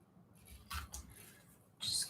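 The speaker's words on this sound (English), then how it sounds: "just cut it with scissors." Scissors snip through paper while making a book paper tag, a couple of faint, close, crisp cuts with short quiet gaps between them and no talking.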